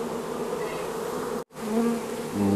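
A honey bee swarm buzzes inside a trap, still clinging to the walls as the bees are moved into a log hive. The buzzing is dense and continuous, with one brief break before it resumes.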